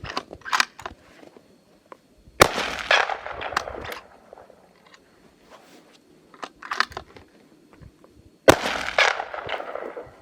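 Two sharp, loud rifle shots from a Howa M1500 Superlite fired outdoors in frigid Montana weather, each a sudden crack followed by a short rolling echo, with quieter clicks and rustling handling noise between them.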